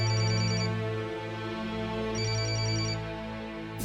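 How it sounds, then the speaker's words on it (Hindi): A telephone ringtone sounds loud and alone, a steady electronic ringing with two bright repeating bursts of trilled tones separated by a short pause. "ये लीजिए, एक फोन है, उठा के आता हूँ।"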